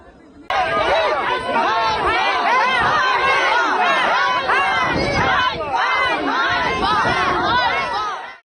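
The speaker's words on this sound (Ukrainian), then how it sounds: "люди на вулиці зустріли його з вигуками ганьба" A crowd of parishioners on a street outside a church in Lviv region shouts together in repeated angry chants, loud and continuous, with overlapping voices and scattered jeers.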